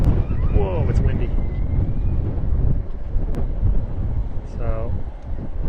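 Strong wind buffets a microphone outdoors at Reagan National Airport, a continuous low roar with gusty swells, while faint whining tones from nearby aircraft drift in and out.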